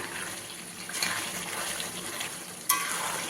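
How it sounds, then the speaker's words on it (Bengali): Country chicken curry with papaya and potato cooks down in a pan with a faint, steady sizzle and bubbling, and a utensil scrapes the pan once near the end. "একদম কষা কষা করব মাংসটা"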